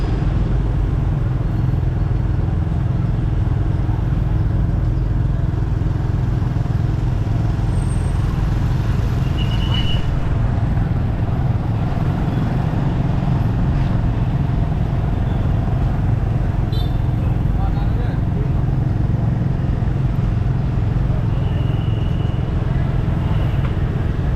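Dense road traffic with many cars rumbles continuously in a loud, low, unbroken roar, with occasional faint higher tones drifting over the steady wash.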